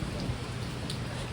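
Steady rain pours down around a sheltering awning during a wet day at an autumn touge car event, a dense continuous hiss of drops close by with no voices.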